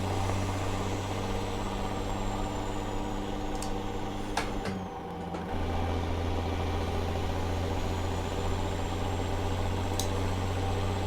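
A heavily modded truck with a 2000+ hp engine in American Truck Simulator idles with a steady low droning rumble throughout, briefly dipping midway, with faint high whines and clicks over it.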